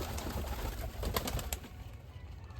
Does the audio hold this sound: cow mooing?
no